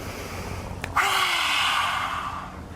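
A close, audible breath during a grounding yoga practice: a short sniff, then a sustained airy inhalation that swells and trails off over a couple of seconds.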